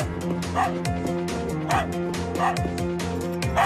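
Virtuose, a pet dog in a cartoon, gives several short yips and barks over a busy, tonal music background. The barking stays close and moderately loud.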